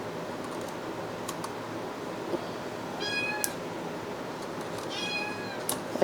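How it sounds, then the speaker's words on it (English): Small kittens give two short bursts of high, thin meows partway through, set against a quiet room with light computer keyboard clicking and tapping nearby; nobody speaks. "Pardon the kitties. Tiny mad kitties"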